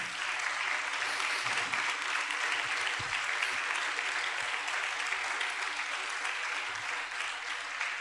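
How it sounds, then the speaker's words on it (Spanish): A church congregation applauds steadily throughout, a dense continuous clapping that stays loud from start to finish. "Démosle un aplauso al Señor"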